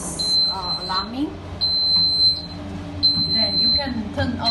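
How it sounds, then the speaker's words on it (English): A load bank's maintenance door alarm sounds in repeated high, shrill electronic beeps, each lasting under a second, over a steady fan roar while a person talks. "The maintenance door alarm is alarming."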